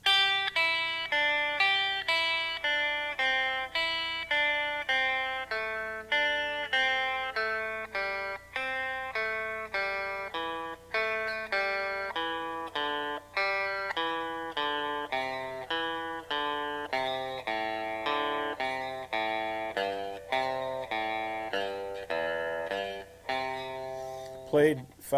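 Country-style electric guitar licks strung together, a steady run of plucked single notes with a slightly effected, driven tone, close and even in level with no talking over it.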